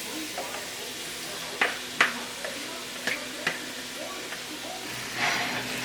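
Cauliflower, onion and jalapeno mix stirred in a hot pan, a low sizzle under scattered spoon scrapes and knocks against the pan, close up.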